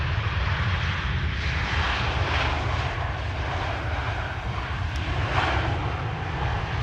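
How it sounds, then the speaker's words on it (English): An Air Arabia airliner lands on the Polderbaan runway at Amsterdam Schiphol, a broad steady jet-engine roar holding loud and even throughout with no talking. "Air Arabia Baroque is landing"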